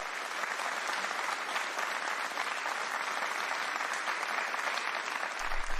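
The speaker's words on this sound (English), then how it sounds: "Let's give them another round of applause." Audience applause at an awards show, a continuous even patter of many clapping hands at moderate level, sustained throughout with no speech on top.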